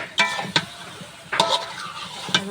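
Sharp scraping clatters of a spoon stirring curry in a pan, three or four strokes over a soft steady sizzle.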